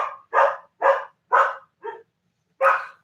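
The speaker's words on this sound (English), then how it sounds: "I've got both Gilbert and Tallulah barking" Dogs barking at home, six loud, close barks in a fairly even rhythm with a short pause before the last one, no voices.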